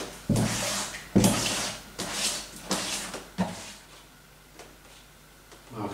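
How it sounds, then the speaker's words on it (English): A wooden wedging table creaking and knocking under about 30 kilos of plaster plus water being mixed, a series of loud irregular creaks and thumps that fade into quieter rubbing. "I can hear the wood creaking with the weight"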